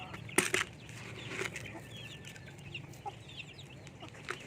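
Chicks feed alongside larger chickens, including Rhode Island Reds, on a backyard poultry setup: soft clucks and scattered peeping, a couple of brief wing flaps near the start, all fairly faint against low background noise.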